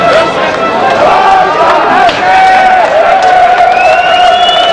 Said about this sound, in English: the Germans crowd seems to be quite pleased